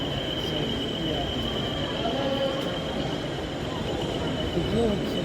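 Inside a crowded exhibition hall, a train rolls past with a continuous rumbling wash of wheels and faint squealing tones, while a busy crowd murmurs underneath.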